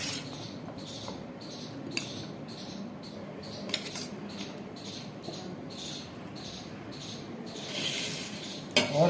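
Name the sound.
serving chana chaat from a dish onto a plate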